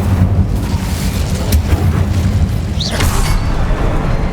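Incendio fire spell blasts in Hogwarts Legacy, loud booming bursts over a rumbling low roar, with a sharp whooshing flare near the middle and another near the end.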